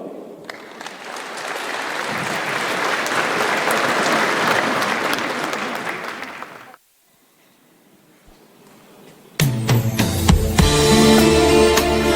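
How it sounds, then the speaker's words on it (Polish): Audience at a county Christmas Eve gathering in Żuromin clapping warmly for about seven seconds, fading out into near silence before music starts. "Wielkie brawa"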